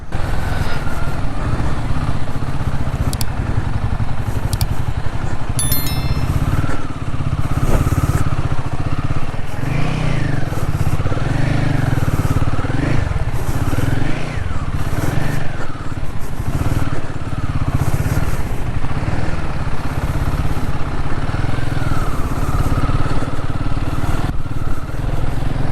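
Motorcycle engine runs steadily and loudly throughout while riding off-road on rough tracks in Punjab, with revs rising and falling as the rider works through a bad patch.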